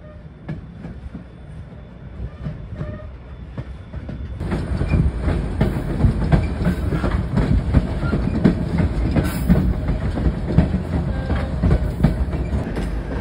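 The Skagway train climbs toward White Pass Summit along the Skagway River, a steady rumble and clickety-clack of rail cars that grows louder partway through and continues without talk.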